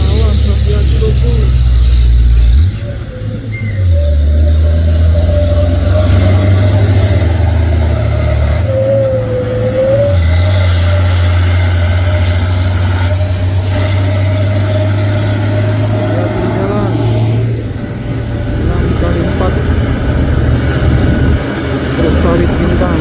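Trailer truck engines labor loudly up the Bukit Kodok climb, a heavy continuous low roar with shifting revs and a brief dip, close and dominant, while a voice talks over the engine noise.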